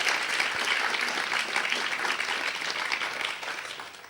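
An audience at a talk applauds steadily and loudly, with dense clapping that holds for several seconds and then fades slightly.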